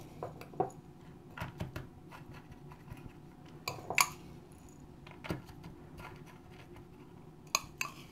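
A tablespoon scoops rolled oats into the bottom of a mini cake mould for a quick frozen bar, giving quiet, scattered spoon clinks and light scrapes against a near-silent background.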